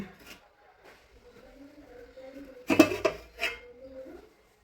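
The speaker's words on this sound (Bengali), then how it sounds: "এবার হাঁড়িটা খুলছি।" A cooking pot of biryani is opened after dum steaming, giving a short metallic clatter and clank of the lid amid quiet kitchen sounds, with a voice speaking softly before it.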